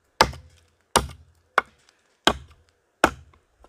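A Buck Knives Comprede axe chops into hard wood with five sharp, evenly spaced strikes, each a loud crisp thwack with a short woody ring, close up and with no talking.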